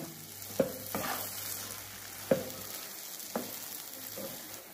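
Semolina sheera prasad stirred in a pan, soft frying crackle with a handful of distinct spoon knocks and scrapes against the pan, fairly quiet.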